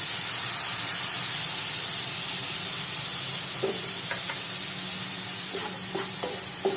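Finely chopped capsicum frying with garlic and ginger in a pan for pav bhaji, a soft continuous sizzle and hiss with a few faint utensil knocks near the end.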